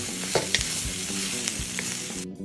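Salt and pepper squid stir-frying in a wok with sesame oil, Chinese style, a loud continuous close sizzle broken by rhythmic scraping and clanking of a utensil stirring, no talking.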